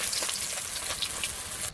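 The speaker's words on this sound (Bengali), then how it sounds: "মাছ সব ভাজা হয়ে গেছে এবার তুলে নিচ্ছি সব" Fish frying in a pan, a steady dense sizzle and crackle of hot oil, close and even throughout before cutting off at the end.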